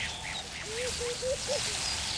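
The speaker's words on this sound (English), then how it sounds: "The sparrow-sized weavers may noisily demonstrate but seldom deter." Sparrow-sized weaver birds noisily calling while a snake raids their nests, a series of short, nasal, chattering calls repeated several times in quick succession against faint background noise.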